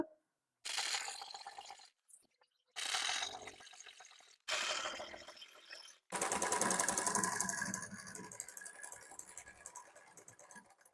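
Domestic sewing machine stitching elastic into a palazzo waistband, in several short runs separated by pauses, then a longer continuous burst of rapid mechanical whirring, close and clear with no talking.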